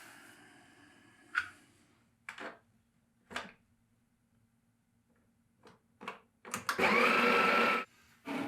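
A Sage Barista Pro grinder purges a couple of grams of coffee: a few soft clicks and taps, then a loud steady grind burst lasting about a second before cutting off.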